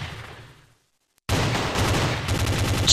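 Rapid, loud gunfire bursts from a scoped sniper rifle in an Android first-person shooter game, starting abruptly after a brief silence and continuing as a dense, sustained barrage.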